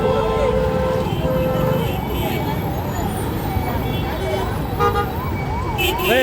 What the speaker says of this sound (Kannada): ಆಂಬ್ಯುಲೆನ್ಸ್ ಬರ್ತಾ ಇದೆ ಬಿಡ್ರಿ.